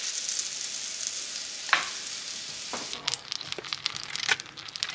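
Potatoes fry and brown in a hot pan with a soft, steady sizzle, then sharper crackles and a few scraping stirs come in near the end, fairly quiet and close.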